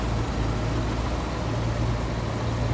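1962 Ford Thunderbird hardtop engine idling smoothly, a low, even, continuous rumble with no voices.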